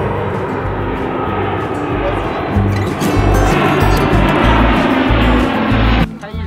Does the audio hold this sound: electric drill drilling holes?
no